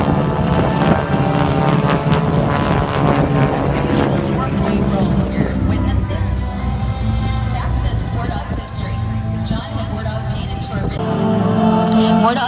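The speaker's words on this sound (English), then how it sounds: "the distinctive sound you hear coming from Wardog is the sound of the propeller tips going supersonic" A North American T-6 Texan with a 600-horsepower Pratt & Whitney R1340 supercharged radial engine roars past at an airshow, its propeller tips going supersonic to give a loud, rasping drone that rises and falls, mixed with wind noise and talk.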